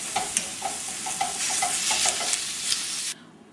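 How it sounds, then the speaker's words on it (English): Ground beef browning in a pan for enchiladas, pressed and broken apart with a potato masher: a steady close sizzle with repeated soft scraping strokes, ending abruptly. "step to making these enchiladas is to brown 1 pound of ground beef. I find the best way to do this is with a potato masher"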